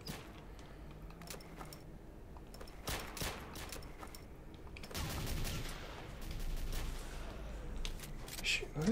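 Bursts of gunfire from the STALKER Misery 2.0 game, sharp shots and rapid volleys scattered across the scene, louder and denser toward the end, with a voice speaking at times.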